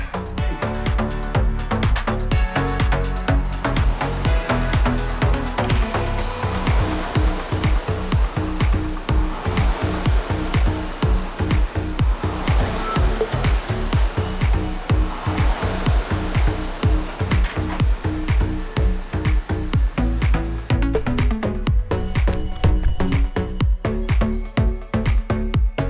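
An indoor rowing ergometer worked through a steady 10-minute paddle, its flywheel whooshing loudly in regular, repeated strokes with no talk.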